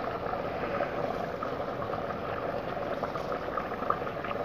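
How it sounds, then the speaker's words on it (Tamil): A pot of water boils for Dindigul Thalappakatti-style mutton biryani, giving a steady, close, rolling bubble with soft gurgles and no talking. "நல்லா கொதிக்க ஆரம்பிச்சிருச்சு."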